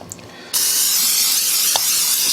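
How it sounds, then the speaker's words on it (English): A quiet moment, then a sustained aerosol cooking spray hisses loudly and evenly for about two seconds into a glass bowl, close to the microphone. "spray it with cooking spray"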